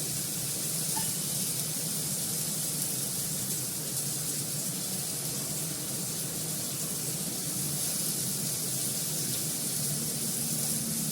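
Water is poured into a hot pan with turmeric, giving a steady, close hiss and sizzle that holds evenly throughout, no voices.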